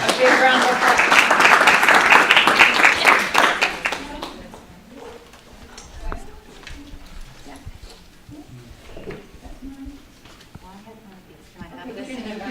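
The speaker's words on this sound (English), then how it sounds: "Big round of applause" Applause from a small audience at a community voter information night, a dense burst of clapping for about four seconds that fades into low murmuring and scattered background chatter.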